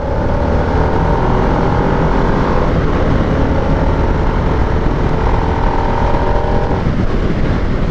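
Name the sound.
Harley-Davidson Nightster 975 stock exhaust popping while riding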